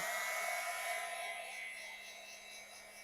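Heat gun blowing hot air to dry a Christmas stocking craft, a steady whining whoosh with a high tonal hum, close and continuous, fading slightly toward the end with no talking.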